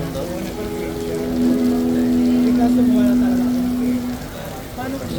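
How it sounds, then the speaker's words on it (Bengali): Steady falling water hisses throughout from an artificial rain-like water feature in a mountain-view mall in Baguio City, Philippines, with a low droning hum rising and fading in the middle; no voices. "বৃষ্টি পানি পড়তেছে এখানে"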